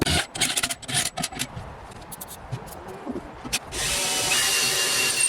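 A drill bores a hole through the flange of a Ford 8.8 axle, with scraping and intermittent grinding bursts that give way to a steady, louder drilling whine near the end.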